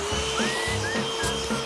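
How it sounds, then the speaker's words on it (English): A vacuum cleaner runs up close, a loud, steady whooshing roar with a motor whine that slides up and down in pitch. "Next up, the vacuum cleaner."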